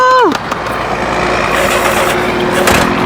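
A motorcycle engine in a roadside holdup scene starts with a brief falling whine, then settles into a loud, steady, close-up roar that runs to the end, with raised voices mixed in.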